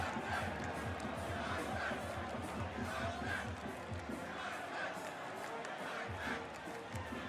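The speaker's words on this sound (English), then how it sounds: "There's the brass band getting the crowd on their feet in the main stand." A football stadium crowd at a semi-final roars and chants steadily, a dense, loud wash of voices from the main stand; the brass band itself is not distinct.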